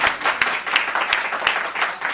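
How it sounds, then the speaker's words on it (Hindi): An audience claps to welcome a poet onto the stage at a Hindi comic poetry gathering, a loud, close burst of clapping with distinct rhythmic slaps over about two seconds. "जोरदार तालियों से धनंजय को आमंत्रित करें"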